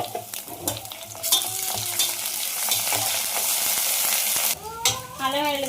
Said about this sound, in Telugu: అల్లం వెల్లుల్లి పేస్ట్ అయితే మనకు బాగా వేగింది కదా, చికెన్ వేసేసుకున్నాం.